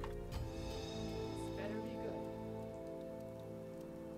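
Rain falling steadily in the They Are Billions strategy game, an even patter under a constant tonal music bed, fairly faint, with a brief sharp click near the start.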